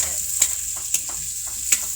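Chicken curry frying in a pan gives a bright continuous sizzle, broken by three or four quick scrapes of a utensil stirring, close up with no voices.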